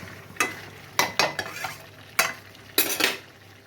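Meat frying and being cooked down in oil in a pan, with sharp intermittent scrapes and clanks of a spoon stirring against the metal over a low background sizzle, no talking.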